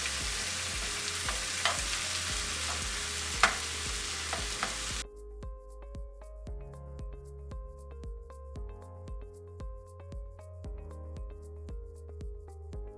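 Meat sizzling in a pan as a utensil breaks up chunks, a loud hissing fry that drops to a quieter sizzle broken by a steady run of scraping, tapping strokes against the pan, close up with no talking.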